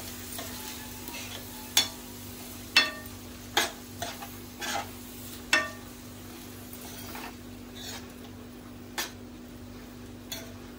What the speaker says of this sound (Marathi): मिक्स करून घ्यायचे आहे मसाल्यामध्ये